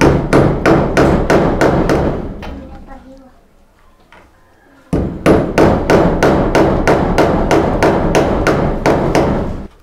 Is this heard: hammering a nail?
yes